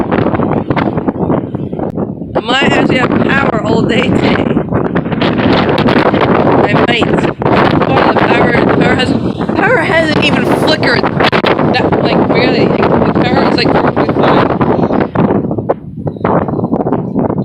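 Strong Hurricane Irma wind gusts roar and buffet the microphone in a loud, sustained rush, while people talk now and then over the storm noise.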